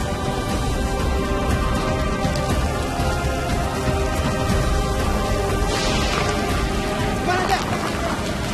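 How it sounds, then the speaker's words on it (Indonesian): Steady heavy rain pours down, a dense loud hiss with pattering drops that fills the whole stretch, voices faintly mixed in beneath it. "Mana hujan, becek, basah, lembab."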